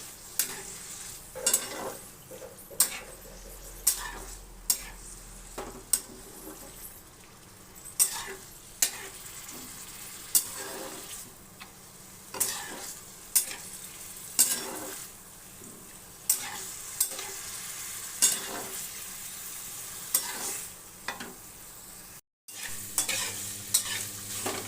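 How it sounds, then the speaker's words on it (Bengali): Marinated chicken fries in a pan for a chicken pizza topping, a low continuous sizzle punctuated by frequent rhythmic scrapes and knocks of a spatula stirring, close and fairly quiet. "চিকেনটা দিয়ে দিলাম। চিকেনটা কষিয়ে নেব।"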